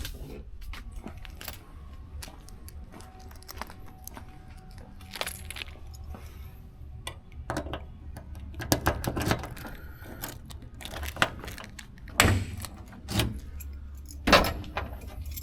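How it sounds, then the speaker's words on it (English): A bunch of keys for a 1967 Mustang jingles and clinks repeatedly at close range, with occasional knocks and rattles against steady low background noise. "Let me get the keys."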